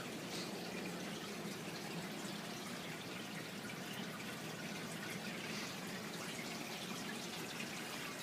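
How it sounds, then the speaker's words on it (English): Water churns steadily through a fluidized sand bed filter in a DIY dual 100-gallon aquarium setup, giving a continuous, even rushing and gurgling wash with no breaks and no talk. "But that is the fluidized sand bed filter right there."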